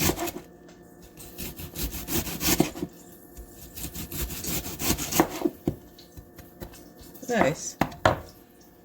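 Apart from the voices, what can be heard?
knife cutting pepper into thin slices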